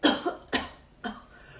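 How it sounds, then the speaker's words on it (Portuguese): Three strong, deliberate coughs, close and loud, the first and second in quick succession and the third after a short pause, demonstrated during a pelvic-floor contract-and-release exercise; no talking. "Coloque a mão e tosse, mas tosse igual eu tossi. Forte."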